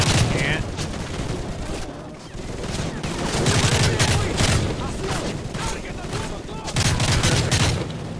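Heavy gunfire in a Call of Duty Modern Warfare 3 campaign mission, with dense rapid bursts and booming shots that continue loudly through the whole stretch and barely let up, while a voice talks over the battle.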